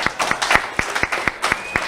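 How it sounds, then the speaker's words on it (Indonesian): Church congregation clapping in a steady, even rhythm at a sermon, with sharp, evenly spaced claps close by and no talk. "Yang setuju tepuk tangan dulu."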